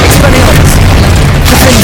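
Bombarda and Confringo spell explosions in Hogwarts Legacy, a very loud, dense booming roar with layered bursts that fills the whole stretch without a break.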